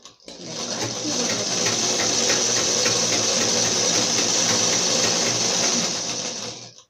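A sewing machine runs steadily, stitching the fall onto the edge of a saree, a close and continuous mechanical whir holding the same speed for several seconds with no talk.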